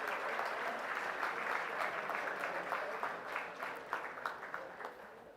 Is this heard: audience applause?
yes